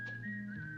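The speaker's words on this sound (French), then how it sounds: "Ce sifflement, c'est le sifflement de la solitude." A thin, clear whistled melody line in a film score, holding steady notes with a slight bend, over a soft sustained musical backdrop.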